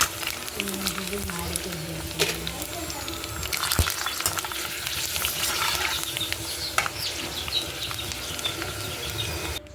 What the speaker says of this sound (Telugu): పానీపూరీలు వేయించడం అయిపోయింది